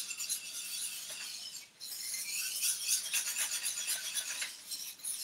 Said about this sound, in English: you have to just whisk it in vigorously so that there are no